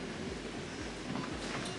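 Inside a moving passenger train in Switzerland, a steady low rumble of the carriage runs throughout, with faint rhythmic clicks from the wheels over rail joints.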